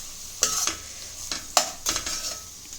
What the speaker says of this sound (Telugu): సో నేను మంచిగా కలుపుకుందాం